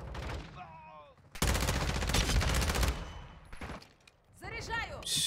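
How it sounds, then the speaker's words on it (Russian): A PPSh submachine gun in Call of Duty Warzone 2.0 fires a sustained rapid burst, loud and close. Short bursts follow, with a voice talking before and after the shooting. "ППшка скорострельная."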